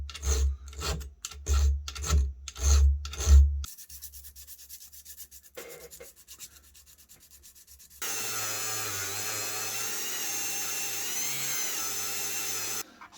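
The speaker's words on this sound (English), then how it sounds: "I'm going to do that by hand just by using a diamond bit on a Dremel to enlarge the hole" Diamond bit in a rotary Dremel tool enlarging a screw hole in an antique rusted flintlock part, with a few short rhythmic grinding bursts up front, then quieter scraping and a steady high whine near the end.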